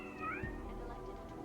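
A cat meows in Deus Ex: Mankind Divided, a single rising and falling cry close by over a steady low game ambience, with no talk.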